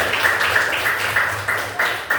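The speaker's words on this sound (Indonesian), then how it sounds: "Tepuk tangan untuk kelompok 1." A class of fourth-grade primary school pupils claps for a group of classmates, a steady patter of hand claps in a room with a repeating brighter accent every few tenths of a second, moderately close and without talk.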